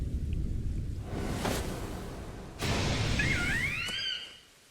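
Rain and a thunder rumble in the Pokemon Legends: Arceus video game, a steady wash of rainfall with a swelling rumble and a brief whooshing chirp near the end, no talking.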